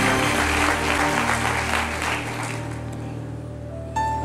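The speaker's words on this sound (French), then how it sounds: "Acclame, acclame." A church congregation applauds loudly in sustained, dense clapping that gradually softens, with a musical keyboard tone entering near the end.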